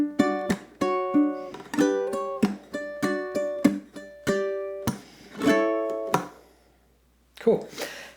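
A ukulele strums two bars of Motown-style rhythm variations, crisp chords struck in short rhythmic bursts with brief pauses between them, close and clear with no talking over it.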